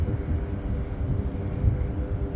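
A steady low rumble of a large Saudia airliner's jet engines idling on the runway before takeoff, broad and constant, with no distinct events or voices.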